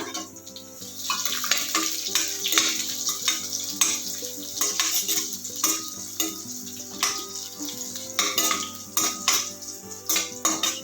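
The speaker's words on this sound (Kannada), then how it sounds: "ಗೋಡಂಬಿ ಫಸ್ಟ್ ಫ್ರೈ ಮಾಡ್ಕೊಂಬಿಟ್ರೆ ಅದಕ್ಕೆ ಒಂಚೂರು ಇದನ್ನು ಹಾಕ್ಬಿಡ್ಬೋದು ಚೂರು ದ್ರಾಕ್ಷಿನೂ ಹಾಕ್ಕೊಳ್ಳಿಪ್ಪ" Cashews and raisins frying in a pan for sweet pumpkin kheer, with a spoon clattering and scraping against the metal in a busy, irregular rhythm over a bubbling sizzle, close and fairly loud without speech.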